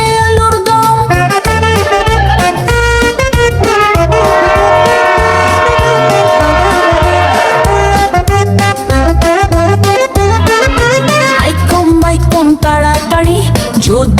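A train runs along with a steady rhythmic clatter while a sustained horn blares in the middle, set under a bright children's rhyme tune; loud and continuous throughout.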